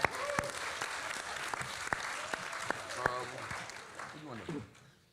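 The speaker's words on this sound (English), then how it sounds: "Give yourself a round of applause." An audience at a nutrition movement global gathering applauds itself in a steady, full wash of clapping with a few sharper claps standing out, fading out at the end, with voices mixed in beneath.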